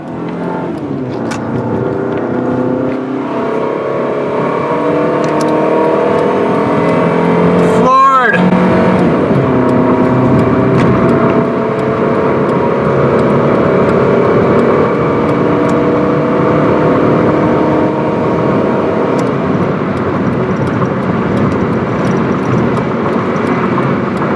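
Car engine floored at full throttle on the I-70 highway, with a steady loud drone of engine and road noise throughout, a brief whoosh near the middle and speech over the top.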